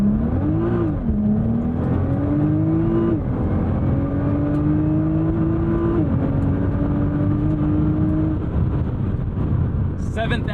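A Nissan R35 GT-R launches hard, its engine note climbing steadily through the revs with brief dips at each gear change, loud and continuous, while a voice speaks over it.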